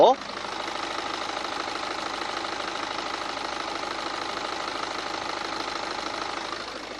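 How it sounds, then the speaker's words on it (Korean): A BMW 5 Series engine idles steadily and evenly, a continuous mechanical hum heard close up with no talking. "일단 바로 엔진 소리 한번 들려드릴게요"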